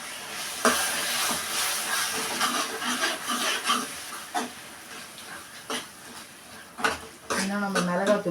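Prawns sizzle and fry in a pan while being stirred, with steady hissing and scraping clinks of a utensil against the pan, close and fairly loud, with no talking.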